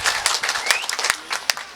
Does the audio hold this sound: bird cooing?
no